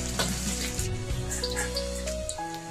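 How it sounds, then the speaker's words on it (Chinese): Ginger pieces stir-frying in hot peanut oil in a wok, a loud close sizzle and crackle under scraping stirs, with a faint tonal hum running beneath. "把姜粒炒干炒香"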